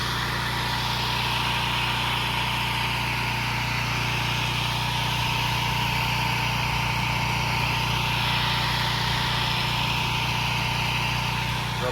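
A pressure washer engine runs continuously and loudly at close range, a steady droning hum with high hiss from the spray while driveway and patio flatwork is cleaned.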